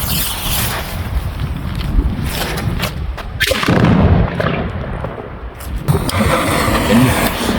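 Consumer fireworks fire a run of sharp booming shots and bursts outdoors, close and loud, with irregular blasts followed by crackling tails and a rushing background hiss.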